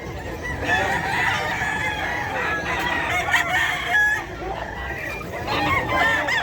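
Roosters crow repeatedly over a busy flock of clucking chickens at a poultry market in Bocaue, loud and close, with steady background noise throughout.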